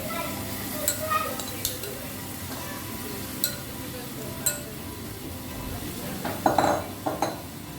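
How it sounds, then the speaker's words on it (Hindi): Leftover masala goes into a pan of Goan chicken cafreal over a low flame, followed by soft stirring with faint sizzling and occasional light clinks of a utensil against the pan. "ये देखिए मसाला, बचा हुआ मसाला इसमें डाल देते हैं।"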